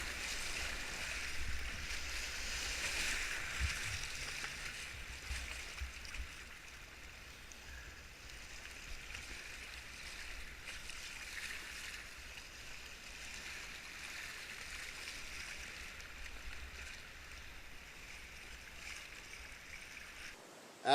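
East Sandy Creek in Pennsylvania rushes past a kayak, a soft continuous burble of current and small waves heard from the water, steady and fairly faint throughout.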